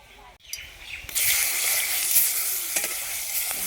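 Fish frying in oil in a wok at an outdoor cooking session, a steady loud sizzle that swells up after a brief quieter start and carries on evenly, with faint birdsong in the background.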